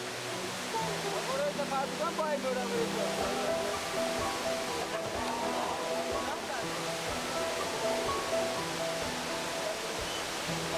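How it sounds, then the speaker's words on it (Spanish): Steady roar of a 70-metre waterfall in Iran, broad rushing water noise at a distance with people talking under it. "La gente viene desde lejos para visitar esta cascada."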